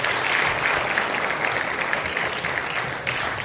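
An audience at an African literature festival event gives a round of applause, a steady, full wash of clapping at even loudness throughout, with no talk over it.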